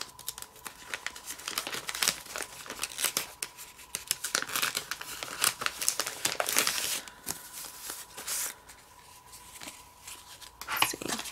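Sticker sheets being handled at a desk during planner decorating, with steady crinkly paper rustles and crisp peeling and tearing bursts, fairly close and alone with no talk.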